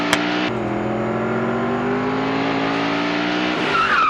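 A loud car is driven hard, its engine roaring and revving in a steady, tonal drone close by. A sharp crack comes at the start, and the pitch swells again near the end; tire squeal is not clearly distinct.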